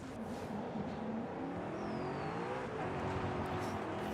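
A car engine in the racing game Forza Horizon 5 revs high and holds a steady, buzzing note, fairly quiet and without talk.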